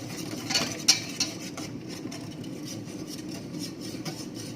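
Thick milk mixture being stirred in a pan while it reduces into sweetened condensed milk, a steady soft scraping and churning with a few light clinks of the utensil against the pan early on.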